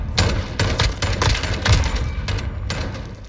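Pistol shots from Call of Duty: Modern Warfare, a quick run of sharp, loud cracks fired in uneven bursts, close and dominant with little else beneath them.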